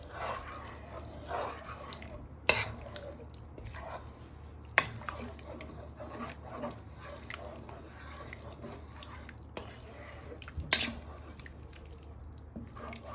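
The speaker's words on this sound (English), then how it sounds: "you want to give it a good stir" A spoon stirs hot and sour soup around a pan: soft, faint scraping and liquid sloshing with several sharper clinks of utensil against the pan scattered through a quiet background.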